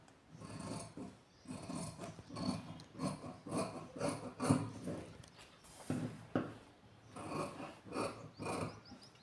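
Scissors cutting fabric for a blouse neck design, a close series of rough rhythmic snips and rubbing strokes repeating steadily throughout, with no voices.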